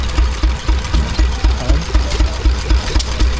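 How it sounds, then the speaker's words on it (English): A Ruston Hornsby stationary engine drives a dynamo at a steam and craft fair, its steady loud low chugging beating in an even rapid rhythm close by, with no voices over it. "we now see a Ruston Hornsby driving a dynamo"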